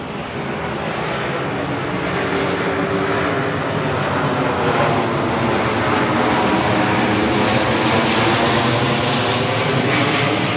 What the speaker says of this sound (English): the only thing I will see and hear is an army aircraft over my head.